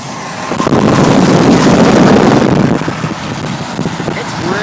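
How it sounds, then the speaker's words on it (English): Strong wind roars through a heavy snowstorm, a loud broadband gusting rush that builds, peaks midway, then eases slightly, with faint voices underneath. "This wind is crazy."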